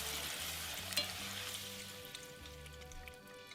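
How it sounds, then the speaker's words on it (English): Corn tortillas frying in infused oil give a steady, close, bright sizzle with light crackle and a brief louder pop near the start, and the sound eases slightly toward the end. "Take your desired amount of corn tortillas and we're gonna fry them in this delicious infused oil."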